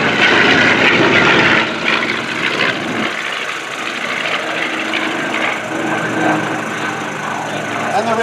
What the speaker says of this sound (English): Let's listen to the radial engines on the B25